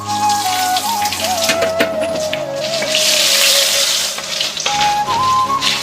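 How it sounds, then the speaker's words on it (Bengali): Onions sizzling and crackling in hot oil that earlier fried pomfret, with cumin and bay leaf, a steady loud frying hiss with scattered pops close to the pan, alongside a sustained tonal hum. "আমার পেঁয়াজ ভাজা হয়েছে বাদামি কালার হয়ে হয়েছে দেখুন"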